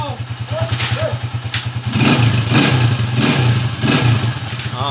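A motorcycle engine runs close by, starting with a steady pulsing idle and then revving in several loud, repeated swells, with faint voices in the background.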